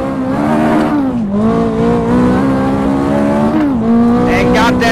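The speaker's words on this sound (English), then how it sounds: "The engine sounds great actually in this car." A Toyota GT with a 458 engine swap in Assetto Corsa, its engine droning loud and close, pitch dipping and climbing through gear changes with a brief tire squeal, while someone talks excitedly over it.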